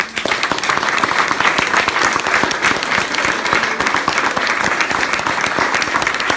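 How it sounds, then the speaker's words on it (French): An audience at a 2017 charity association speech gives loud, dense applause that holds steady and fills the room without a break. "Donc on peut l'applaudir"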